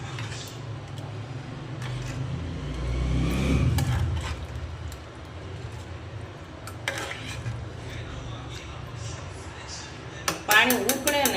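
Washed basmati rice and masoor stirred together in a pressure cooker pot, with scraping and clinks of a utensil against metal amid room noise and a brief clatter near the end.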